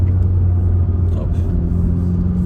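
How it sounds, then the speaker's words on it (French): Honda Civic Type R FK2 cabin sound: steady low engine rumble and intake drone with a faint turbo dump-valve whoosh midway, heard from inside the car. "Vous avez le bruit de l'admission d'air dedans et du turbo du coup de la dump"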